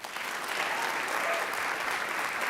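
An audience at a college peace oratorical contest breaks into steady applause, a dense even clapping that holds at a consistent level throughout.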